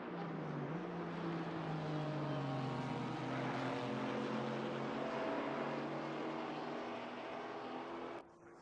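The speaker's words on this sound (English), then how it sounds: "not a bad sound of the AMG engine in the Aston Martin" Racing car engine of an Aston Martin with an AMG engine in Assetto Corsa Competizione at Zolder, a loud steady drone with rising and falling pitch that holds throughout, then drops off sharply near the end.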